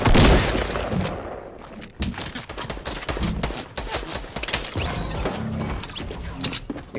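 Rapid bursts of gunfire from a Fortnite battle royale match, dense overlapping shots and mechanical clatter filling the whole stretch at close range, with a brief lull near the two-second mark.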